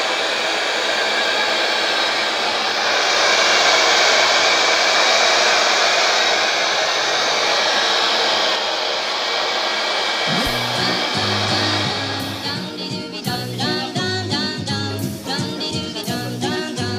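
A hair dryer blows steadily over a printed film transfer on a shirt in a garment workshop, a loud, continuous whooshing roar for about ten seconds, followed by sharper tonal sounds as the blowing fades.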